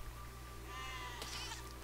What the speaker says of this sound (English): sheep, get away from me!